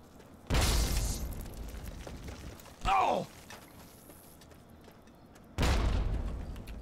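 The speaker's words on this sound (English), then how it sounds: "I'm just going to throw a grenade at these bitches." A grenade goes off in the video game Fallout 3, two sharp loud broadband bursts several seconds apart with a brief creaking whoosh between them over a quiet background.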